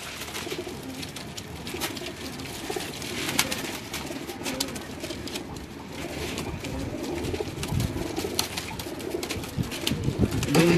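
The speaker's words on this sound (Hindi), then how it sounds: "दो तीन कबूतर ज़रा पकड़ के लोगों को शो करवाएं।" Pigeons coo faintly on a rooftop loft in Lahore, a soft steady murmur of birds under a wash of outdoor background noise, with occasional wing and rustling sounds.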